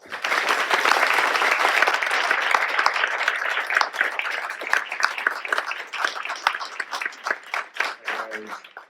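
An audience bursts into sustained applause to welcome author Marlon James, dense and loud at first, then thinning into scattered claps and tapering toward the end.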